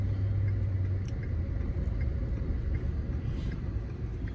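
A BBQ food truck rolling down the road, heard from inside as a steady low engine rumble and road drone with faint rattles, no talking.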